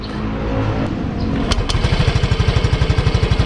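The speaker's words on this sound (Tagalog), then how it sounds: "Halos wala kayong maririnig kapag in-start nyo na yung makina" A Yamaha Mio Gear 125cc scooter engine idles with a steady, rapid putter right after a brief, quiet start, fairly loud and close over a low background rumble.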